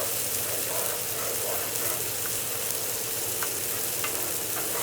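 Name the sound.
spoon stirring pasta in a pot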